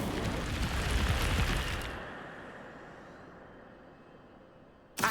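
Incendio fire spell cast in Hogwarts Legacy: a loud, dense whooshing burst of flame for about two seconds, then a long fading rumble tail, ending with a sharp new burst at the very end.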